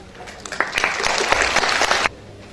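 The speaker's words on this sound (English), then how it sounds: "Please give him a round of applause." Audience applause at a Nanmeebooks 20th anniversary event honoring a German dignitary, a burst of clapping swelling for about a second and a half then stopping abruptly, fairly close and moderately loud, with faint murmurs beneath.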